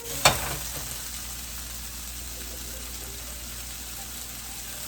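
Green beans and mushrooms sautéing with garlic in a pan, opening with a single sharp clank of utensil against pan, then a steady, even hiss of frying that holds without break.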